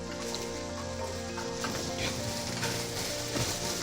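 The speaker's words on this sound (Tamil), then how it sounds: "இப்போ இஞ்சி பூண்டு ஆட் பண்ணிவிட்டு நல்லா மிதமான தீயில வச்சு வதக்கிக்கிட்டு இருக்கோம்" Ginger, garlic and shallots saute in a pan over a medium flame, giving a steady, close, crackling sizzle with light stirring scrapes throughout.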